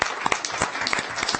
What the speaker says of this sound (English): We're going to pause on that and give you a round of applause